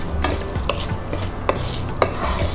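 Dal being dry-roasted for spice powder in a pan, with a steady rustling and scraping of lentils as they are stirred, punctuated by several sharper clicks of a spatula against the metal.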